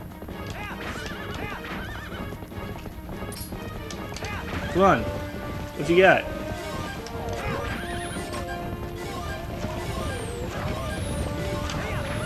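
Horse neighs and hoofbeats from a joust in The Legend of Zelda: Twilight Princess, with steady galloping clip-clop throughout and two loud whinnies near the middle, while someone talks over the game sounds.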